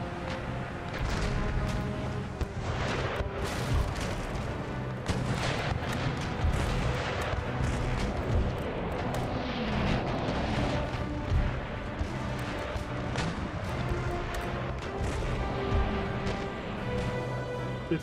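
Ship cannons in Empire: Total War fire in a continuous barrage of booming shots and crashing impacts, dense and loud throughout a naval battle.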